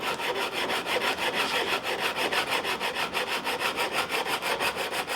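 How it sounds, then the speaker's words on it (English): Sandpaper sanding a rosewood guitar neck, rolling over the edges and corners of the fingerboard; steady back-and-forth rasping strokes in a fast even rhythm, close and continuous with no talking. "I'll just kind of roll into it as I sand, and that's going to take care of that little corner of that rosewood."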